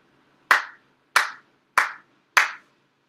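Four sharp, evenly spaced hand claps ring out alone in quiet, part of a Konkō Shinto-style prayer service ritual.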